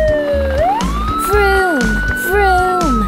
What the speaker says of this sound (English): When the siren makes a sound, my police car always saves the day.